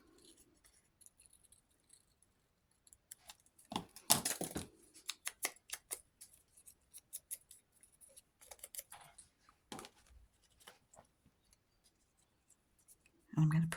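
A craft piece from a jewel-and-embellishment kit is cut out by hand: close, crisp snips and papery rustles come in quick irregular bursts with short pauses between them.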